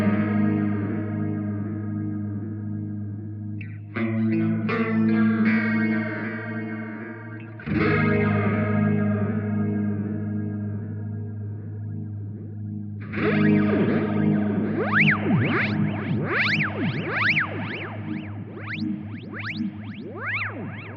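An electric guitar through a Boss MD-500 modulation pedal and RV-500 reverb, drenched in swirling modulation and washy reverb, plays droning chords, with fresh strums entering every few seconds and warbling echoes trailing off.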